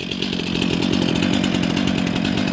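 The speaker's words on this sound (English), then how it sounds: "then you set your chainsaw up there and just slowly cut it all to fit" A chainsaw cuts slab wood held on a wood processing rack at a campground, a loud, close, continuous buzzing whine with a steady pulsing chatter and no voices.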